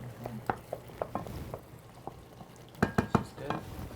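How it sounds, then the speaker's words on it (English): Rice gets stirred in a pot with a spoon, a string of light scraping clinks and taps arriving in irregular bursts, with a cluster of louder knocks near the end, quiet kitchen hum around them. "Malcolm, give the rice a little bit stir."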